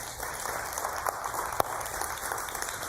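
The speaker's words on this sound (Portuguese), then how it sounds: "Aplauda o Senhor Jesus." Scattered clapping from a church congregation, fairly faint and distant, with a few sharper individual claps standing out.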